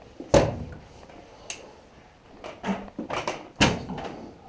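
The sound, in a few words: Humvee front doors being opened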